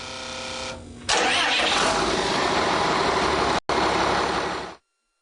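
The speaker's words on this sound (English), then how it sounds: "Start the engine." Diesel engine cranking and catching during a fuel system lift pump inlet restriction test, a short crank followed by a loud steady roar that holds close and strong, with a brief dropout near the end before cutting off.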